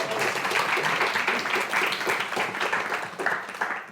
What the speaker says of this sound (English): chatting with Heather Parry, and a clap because I said her name.